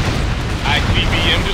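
A missile explosion in the air-combat video game Ace Combat Assault Horizon, an ICBM being destroyed: a dense, loud rumbling blast that swells partway through under a game voice channel.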